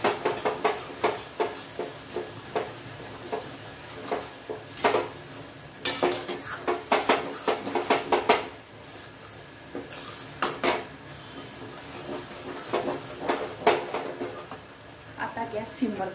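A spoon clatters and scrapes against a pan over high heat while spring onion bhaji with peanut powder is stirred, giving repeated close metallic knocks in uneven bursts under a voice talking.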